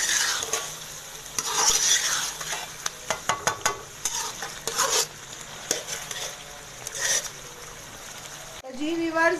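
Sizzling masala for Peshawari-style chicken karahi is stirred in the pan with repeated scraping strokes and bursts of frying noise, while a person talks over the cooking.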